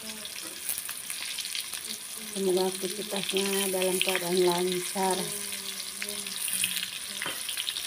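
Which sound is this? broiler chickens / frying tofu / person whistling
frying tofu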